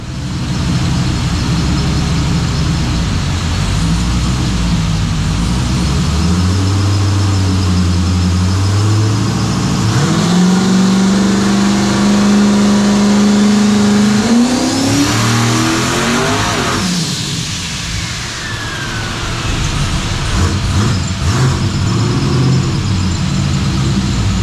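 A modified shop truck engine on a dyno with CO2 boost and the wastegate held shut revs up from idle in a long rising pull, then drops back, loud and close throughout.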